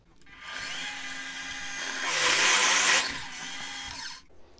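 Power drill rattling and whining while boring a 7.8 mm hole, a steady loud grind that swells toward the middle and then cuts off, with no talking.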